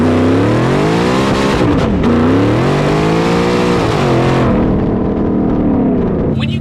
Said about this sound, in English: We also got a side exit exhaust on my passenger side that's spitting out that way.